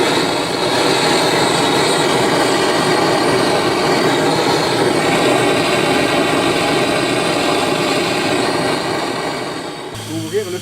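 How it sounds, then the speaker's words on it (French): A gas lamp burner heating the kerosene injection lines on a 1910 Stanley Type R steam car gives a loud, steady roaring hiss that continues for about ten seconds, then cuts off, leaving some clatter. "je vais allumer la lampe à gaz. Ça permet de chauffer les branches d'injection du kérosène"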